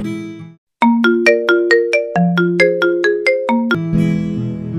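A mobile phone ringtone for an incoming call plays loud and close: a bright, rapid melodic sequence of plucked electronic notes in a rising and falling pattern, following a brief pause.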